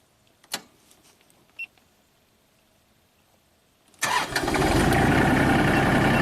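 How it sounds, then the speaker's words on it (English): A couple of faint clicks, then a Kubota tractor engine cranks and turns over, settling into a steady loud idle that continues to the end. "You gotta hold these two buttons down while you start the engine."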